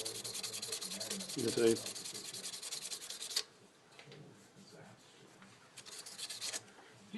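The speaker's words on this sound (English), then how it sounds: "now I'm going to cross sand it lightly to get in some, to try and get the original scratches out" A wooden pen blank cross-sanded lightly with 320 grit sandpaper, a steady close rasping rub that stops abruptly partway through, followed by quieter handling noise, and a brief spoken phrase comes in the middle.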